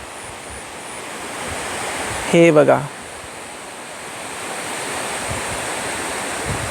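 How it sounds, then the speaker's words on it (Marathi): Steady broadband roar of a waterfall near a village home, a continuous rushing wash throughout, briefly interrupted by a short burst of someone speaking. "आणि हा धबधबा आहे मित्रांनो"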